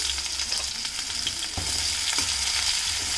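Chopped onion frying in hot oil with whole cumin seeds, a steady close sizzle with stirring scrapes and clatter in a pan while cooking an eel dish.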